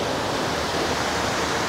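Flooded waterfall in Yokoya Gorge, Nagano, thundering with high water: a loud, steady broadband roar filling the whole stretch without pause or voices.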